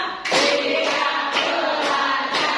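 A classroom of students claps together on cue in a counted rhythm. Four loud unison claps come at slightly uneven intervals, each with a brief room echo, and no one speaks.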